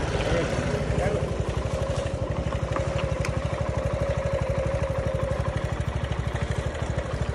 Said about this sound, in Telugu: ఇంజన్ బీటింగ్ అనేది కూడా మనకి చాలా మార్పు వచ్చింది